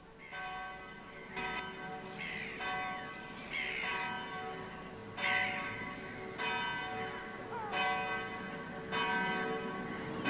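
Church bells ring in a slow, overlapping peal, each stroke clear and resonant with a long humming decay, steady and moderately near, with no voices.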